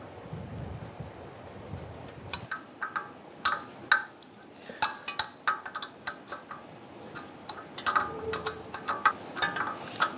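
Harmonic balancer pulley nuts being loosened on a 1997-2006 Jeep Wrangler engine, with a steady run of close metallic ratchet clicks and clinks against light wind noise outdoors.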